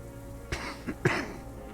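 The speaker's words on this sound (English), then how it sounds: "The man interrupts him and then coughs." A man in the video game Disco Elysium coughs, two rough hacking bursts about half a second apart, close and fairly quiet with no talk.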